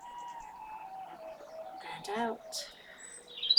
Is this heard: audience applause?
no